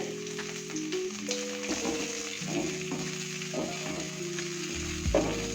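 Onions and green chillies sauté in a pan for a drumstick-leaf curry, giving a steady close sizzle with occasional stirring scrapes, while sustained tonal notes run underneath throughout.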